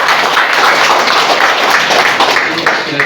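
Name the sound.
applause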